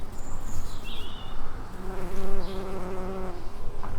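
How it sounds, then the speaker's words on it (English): A steady bee buzz hums through the whole stretch against a soft garden background late in the day, with faint bird chirps drifting in now and then. "Now it's getting late in the day, there are still one or two bees around."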